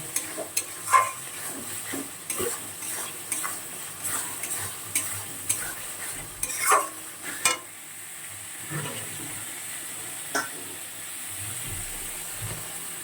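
About 800 grams of chicken pieces going into a pan with turmeric for chicken biryani, a faint sizzle under repeated close stirring scrapes and knocks, no talk.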